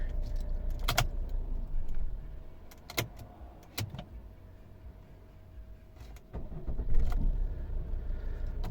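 Keys jangle in several brief metallic bursts over a low, steady engine hum inside a 2012 Volvo V50 D3 2.0 automatic, with quiet pauses between the clinks.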